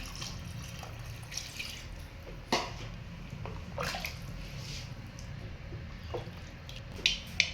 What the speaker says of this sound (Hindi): थोड़ा सा पानी मैं और ऐड कर रही हूँ।